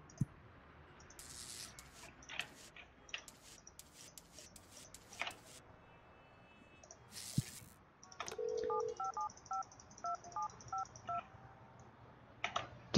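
Telephone keypad dialing tones from the office-tower building game Project Highrise, a quick series of short beeping touch-tones in the latter half, preceded by scattered soft mouse clicks over a quiet background.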